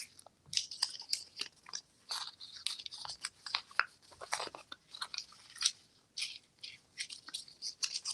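A paper transfer tag being crumpled for a layered popsicle-stick cross craft, giving quiet crinkly crunches in irregular bursts, close and soft, with no talking.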